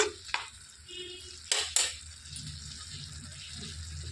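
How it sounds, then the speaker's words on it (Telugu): Salt being stirred into ridge gourd curry in a pan, with a few sharp spoon scrapes and clinks against the metal over a soft, steady background, no voices. "ఇందులోనికి రుచికి సరిపడా ఉప్పు వేసేసుకొని ఒకసారి కలిపేసుకోవాలండి."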